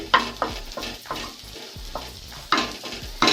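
Vegetables frying briefly in a pan for a vegetable soup, with a low sizzle under a rhythmic series of spatula scrapes and taps against the pan, close and with no voices.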